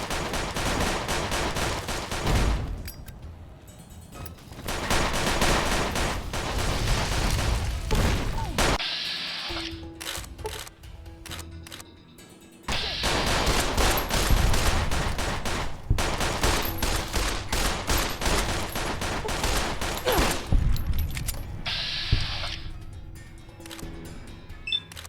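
Enemy gunfire in Fallout New Vegas around the town of Primm: loud, rapid bursts of shots in long runs broken by short quieter gaps.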